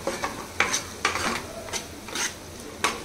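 An egg masala mixture seasoned with salt being stirred in a frying pan, with repeated scraping strokes of a spoon against the metal every half second or so over a soft sizzle.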